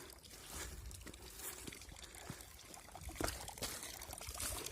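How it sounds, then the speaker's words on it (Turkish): Thin trickle of water from a village fountain on a mountaintop, a weak steady flow splashing and dribbling quietly at close range with faint outdoor background and no talk. "Güzel bir çeşme bulduk."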